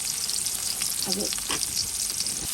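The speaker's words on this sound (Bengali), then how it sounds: "আগে বেরেস্তাটা ভাজি দিছি" Onions fry for beef haleem with a dense, continuous sizzle and crackle, close and steady, with a few faint stirring scrapes.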